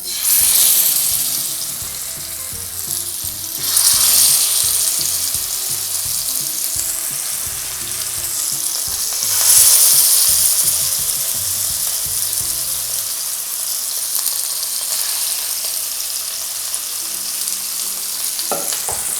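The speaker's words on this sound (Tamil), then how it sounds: "இப்போ எண்ணெய் வந்து நல்லா காஞ்சிருச்சு. இதில் வந்து நம்ம இப்போ மீனை போட்டுடலாம்" Fish sizzling steadily in hot oil in a home kitchen pan, a loud continuous crackle that swells in two bursts and then settles into an even fry, with no voices.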